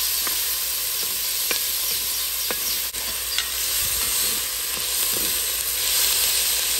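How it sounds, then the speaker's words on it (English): Onions sauté in a pan for an Italian-style chicken dish with a loud, constant sizzle and hiss, broken by repeated sharp clicks and scrapes of a spoon stirring, close up and with no voices. "Just let that saute for a minute or two."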